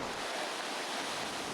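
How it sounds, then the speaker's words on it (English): Glacier meltwater rushes through Avalanche Gorge in Glacier National Park, a steady broadband roar that stays loud and unbroken throughout, with no voices over it. "where you can hear the power of the water roaring behind me"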